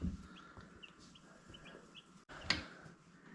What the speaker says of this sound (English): They're just a white turkey that breeds naturally.